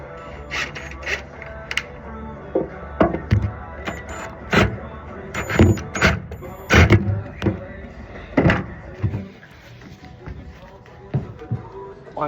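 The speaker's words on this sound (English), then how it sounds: "we're just going to quickly use the drill as a bit of rattle gun" A cordless drill works as an impact wrench on the bolts of a swing-away tub box, giving loud, bursty rattling hammer pulses in short bursts separated by pauses, with some knocks.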